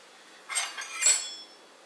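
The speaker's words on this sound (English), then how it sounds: "So let's cut these amazing poached eggs." A knife cuts into poached eggs on a plate, giving two short, faint metallic clinks of the blade against the dish in an otherwise quiet room.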